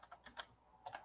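Light typing on a computer keyboard, a handful of soft irregular key clicks with a short gap between them; quiet and close, with no talking.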